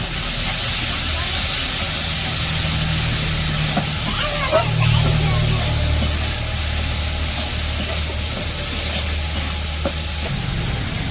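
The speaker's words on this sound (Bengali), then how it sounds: "এখন দিয়ে দিতেছে চিংড়ি মাছ।" Prawns are stir-fried in a cooked spice masala, giving a continuous close sizzle with stirring scrapes and a low background hum while a person talks.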